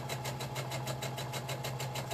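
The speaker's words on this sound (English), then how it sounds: "going to sew to the end of that fabric and then stop" Sewing machine stitching through fabric, a steady fast rhythmic whir and needle pulse that holds even and continuous throughout, close and moderately loud.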